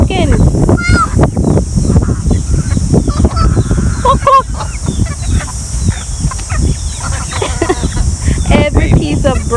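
Farm fowl at a Cayman turtle farm call repeatedly in loud, busy clucks and squawks, close by, while people talk over and around them throughout.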